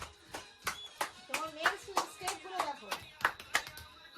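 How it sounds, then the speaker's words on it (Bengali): People clap their hands at a family outing with dancing, a run of sharp, fairly regular claps close by, with voices and cheering mixed in around them. "সবাই হাততালি দাও"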